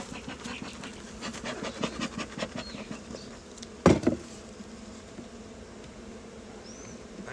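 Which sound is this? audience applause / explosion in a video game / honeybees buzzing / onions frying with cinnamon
honeybees buzzing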